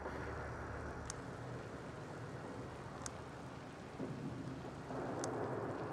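Steady heavy rain pours through a thunderstorm in the game The Invincible, a dense continuous hiss with a low rumble of thunder, broken by a few faint sharp crackles.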